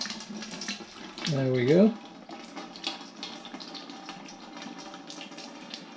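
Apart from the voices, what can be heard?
homemade fruit wine pouring into a big pan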